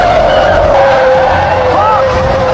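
A car skidding to a sudden stop in the middle of a street during a film chase scene, heard as a loud, sustained tire squeal over a roaring engine and dense background noise.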